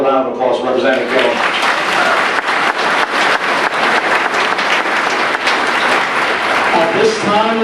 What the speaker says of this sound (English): how about another round of applause for Representative Gill?